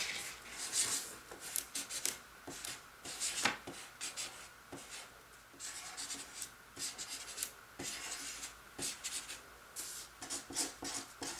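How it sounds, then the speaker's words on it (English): Pencil drawing flames on paper, close and quiet, with steady scratchy strokes and rubbing in short repeated bursts. "I'm gonna draw better flames than they did."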